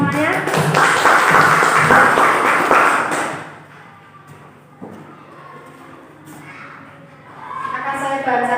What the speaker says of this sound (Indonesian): Tepuk tangan untuk diri kita semuanya.